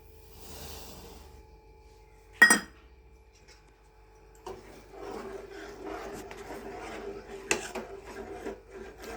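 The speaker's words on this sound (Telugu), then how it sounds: "ఇప్పుడైతే చక్కెర వేసుకొని బాగా కలుపుకుందాం" Sugar being stirred into milk for a fruit salad, a spoon scraping and rubbing in a rhythmic, fairly quiet series of strokes with one sharp clink near the start and another later.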